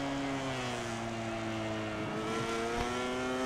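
A motorcycle engine in MotoGP 19 accelerates steadily at high revs, with a loud, continuous whine whose pitch climbs and shifts through a gear change, heard alone.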